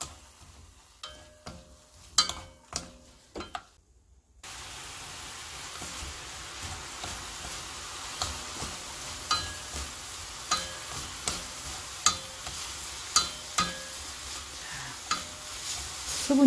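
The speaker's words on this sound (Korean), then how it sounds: "좀 빨리 볶아내야 돼요." Anchovies stir-fry in a pan over high heat, a steady sizzle broken by regular scraping strokes of a spatula, close and fairly quiet, with no talking.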